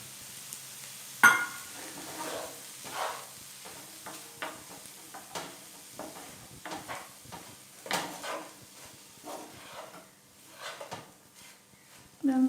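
Minced mutton keema stuffing mixed with bread crumbs, the spoon or hand scraping and stirring in short, irregular strokes at close range, with a soft voice faintly in the background.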